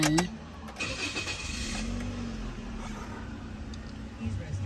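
A 2014 Toyota Yaris 1.2 engine cranks and catches, then settles into a steady low idle that holds throughout at moderate volume.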